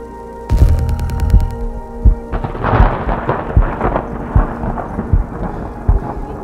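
Deep, rumbling thunder rolls in on Mount Aragats, Armenia, and keeps booming and crackling, loud and close, with a throbbing low-end pulse throughout.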